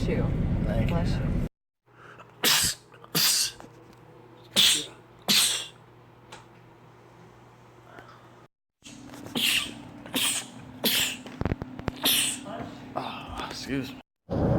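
A person sneezes repeatedly, several short sharp sneezes in quick succession, fairly close and loud, with people talking in between.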